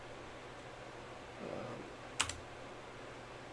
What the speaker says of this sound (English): Type in the IP, top 100 ports.